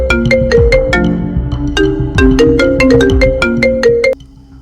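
Loud melodic mobile phone ringtone in a short film plays a repeating plucked tune up close, then cuts off abruptly, leaving faint room tone.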